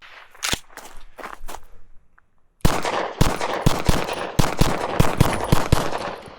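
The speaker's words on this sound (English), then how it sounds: "I just don't like the way that this gun feels when I shoot it." Shots from an H&K VP9 pistol, a run of sharp, loud reports in quick succession that start after a few softer impacts and a brief quiet gap, with no talking.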